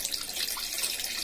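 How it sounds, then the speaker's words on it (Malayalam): Water is forced hard through a pressure cooker whistle, making a continuous close hiss and gush like a running tap, with no voices. "അതിനുള്ളിലേക്ക് നമ്മൾ ശക്തിയാൽ വെള്ളം ഒഴിച്ചു കൊടുക്കാം"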